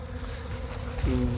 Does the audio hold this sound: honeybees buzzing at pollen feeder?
yes